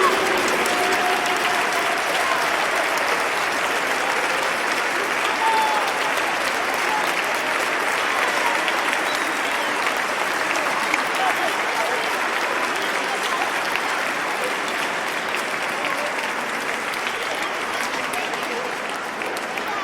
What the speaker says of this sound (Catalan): havíem de fer un fort aplaudiment als que l'han creat